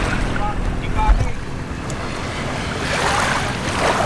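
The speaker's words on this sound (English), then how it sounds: "On the beach here in the Philippines, it's a nice place, and you can hear the water," Surf washes onto a beach in the Philippines as a steady, broad hiss, swelling louder toward the end, with wind buffeting the microphone throughout.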